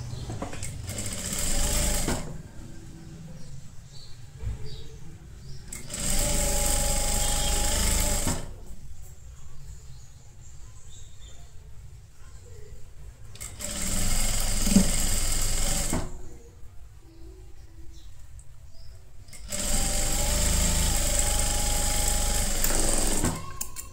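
Sewing machine stitching the folded bottom hem of a child's palazzo pant, running in three loud, steady bursts of several seconds each, separated by quieter pauses.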